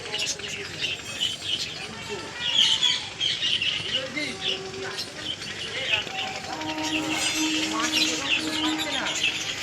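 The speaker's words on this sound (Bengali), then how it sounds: "আস্তে আস্তে হাইট নিচ্ছে পায়রাগুলো।" A flock of domestic pigeons released from a house rooftop calls with short chirps and squawks as they climb, heard over a continuous outdoor background for about ten seconds.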